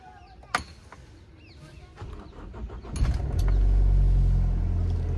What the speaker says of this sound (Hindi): सबसे पहले इसको कोल्ड स्टार्ट कर लेते हैं।